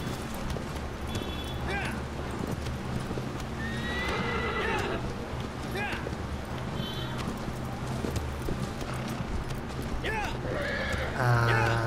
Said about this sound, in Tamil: குதிரைன்னா திங்கு திங்குன்னு போகணும்